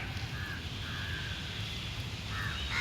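Crows caw faintly at a distance while feeding on scraps put out for street dogs, a few short calls scattered over a steady outdoor hum.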